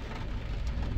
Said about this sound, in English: it hasn't stopped raining all day, and it won't for the next few days